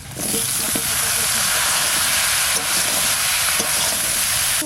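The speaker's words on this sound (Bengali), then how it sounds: "মটরটা কষানো হয়ে গেছে এবারে লাউ দিয়ে দেবে" Bottle gourd tipped into a frying pan of sautéing peas, a loud, close hiss and sizzle with stirring scrapes, steady throughout the short stretch.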